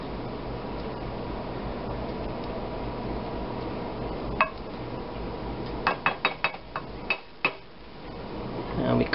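A spoon stirs spinach and beef stock in a pot, producing a cluster of sharp metallic clinks and scrapes in the second half over a steady background hiss, close and moderately quiet.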